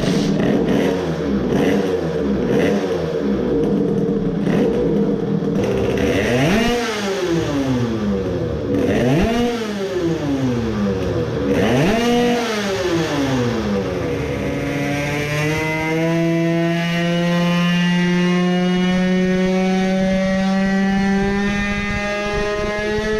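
A tuned 20-horsepower moped engine fitted with race ignition runs on a test stand, revving up and down in three sharp sweeps before settling into a steady high-pitched drone, loud and close throughout.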